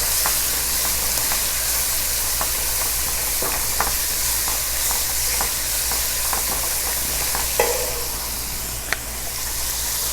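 Onions and a spoonful of yogurt sizzle steadily in a pan for chicken pilaf, a constant frying hiss broken by a few soft clicks of stirring.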